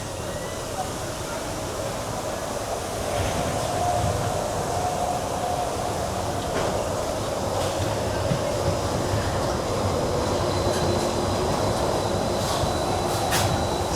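A Disneyland monorail rolls past with a steady, loud rumble that holds throughout, with faint higher clicks and squeals riding over the drone.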